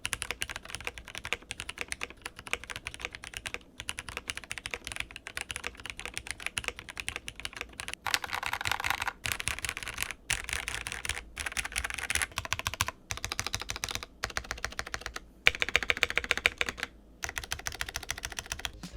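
A TKL mechanical keyboard fitted with an internal weight is typed on steadily for a long stretch, giving a dense, continuous patter of close keystrokes with a few brief gaps and no voices.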